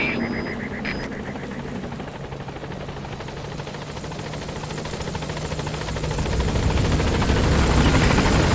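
The Pequod helicopter arrives at a landing zone in Metal Gear Solid V, its rotors a steady, throbbing thrum that swells louder over the final seconds.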